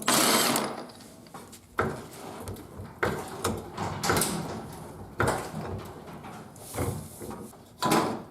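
Passenger side body bolts coming out of a Jeep Wrangler YJ, heard as loud, close ratcheting bursts and metallic clanks repeating in short spurts with brief pauses between them.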